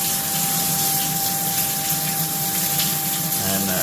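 A waterproof Ryobi cordless power scrubber runs steadily in water, giving a constant motor whine over sloshing, splashing liquid, close and fairly loud throughout.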